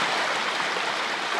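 Water flowing at the bottom of a pyramid in Hungary, a steady, loud, broadband rushing stream heard alone without pause, close and continuous with no talking.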